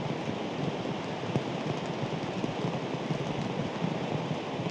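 Steady rain patters onto water at a golf course, a dense, even hiss of countless drops with no break, heard alone without voices.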